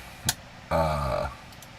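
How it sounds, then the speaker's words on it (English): A single drawn-out, voiced burp sounds close and clear after a short earlier noise, with no talking around it. "got the hiccups and a burp."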